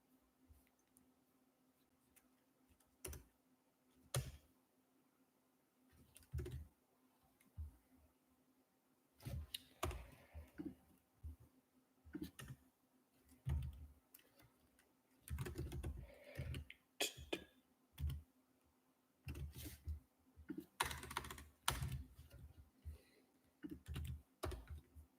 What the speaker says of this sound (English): I guess you just see a ton of typing